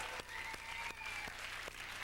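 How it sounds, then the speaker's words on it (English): An audience at a Thanksgiving trivia game show claps steadily, a dense spatter of applause at moderate distance with a few sharper claps standing out. "let's give them a round of applause for doing so"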